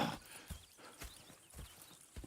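Horses in Red Dead Redemption 2 clip-clop at a steady walking rhythm, soft and fairly distant, with evenly spaced hoof thuds and no talking.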